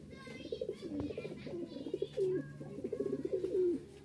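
Rajshahi Giribaj pigeons coo close by in repeated rolling, throaty phrases, a soft pulsing murmur that rises and falls with brief pauses between calls.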